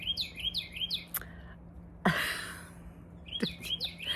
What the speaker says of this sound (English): I lose my train of thought because I'm interrupted by a beautiful bird